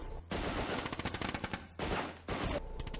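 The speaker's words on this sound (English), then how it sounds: "and get a submachine gun. It's fully automatic, as is every other weapon you get after this." Fully automatic submachine gun fire in the video game Heavy Fire: Special Operations, with dense rapid bursts of shots that keep cutting off briefly and resuming, loud and close.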